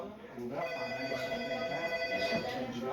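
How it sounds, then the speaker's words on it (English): A telephone rings inside a model train station layout with a phone system. Its bell-like trill repeats steadily at a modest level, and people's voices talk over it. "They have a phone system in here"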